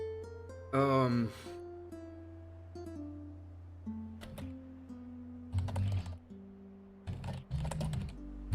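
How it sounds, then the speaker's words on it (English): Mechanical keyboard keys clacking in a few separate bursts, near and fairly quiet, with pauses between the flurries of typing and no voices. "Sorry for the mechanical keyboard horrible mess."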